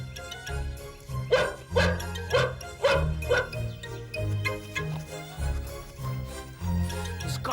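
Cartoon guard dogs bark in a quick, bouncy series of yaps and bow-wows over a steady musical score, the barks loud and close with short gaps between bursts.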